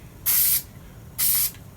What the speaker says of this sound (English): Yup, it's spraying a little crazy.